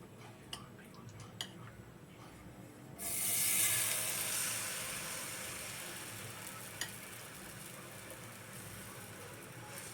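Oil sizzling and hissing on a hot pan readied for millet and fenugreek dosa, a sudden loud burst that settles into a steady fry, with no talking.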